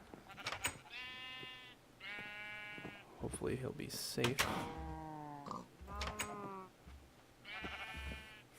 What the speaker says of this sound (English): Over with the sheep.